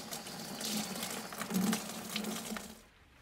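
Water drains from the drain-off point of a Baxi 600 combi boiler in a steady, soft, continuous gushing trickle with a low hum underneath, fading out at the end.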